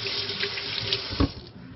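Water running steadily from a kitchen sink tap while fingers are rinsed under it, a close continuous splashing stream with a brief thump near the end.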